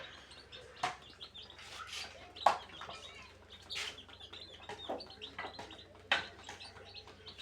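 Chickens feed and cluck close by in short, scattered calls mixed with thin chirps, quiet overall with several sharper peaks.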